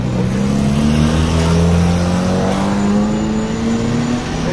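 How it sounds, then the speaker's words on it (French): Car arriving with its engine loud and close, a steady droning hum that rises slightly in pitch as it pulls up, with no talking over it. "Je parle alors que c'est la voiture ici."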